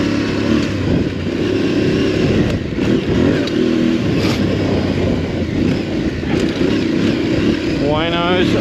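Aprilia Tuareg 660 motorcycle riding along, engine droning steadily close to the microphone with wind rush throughout, a brief rising rev near the end, and riders talking over it.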